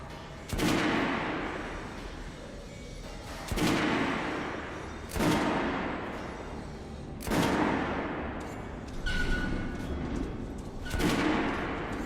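Gunfire in the video game Metro Redux: heavy booming shots about every one to two seconds, each followed by a long ringing decay, loud and close over a constant rumbling background.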